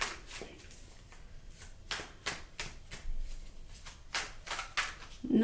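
Tarot cards are shuffled by hand in a series of quick, papery riffles and slaps, close up and fairly quiet, with no talking.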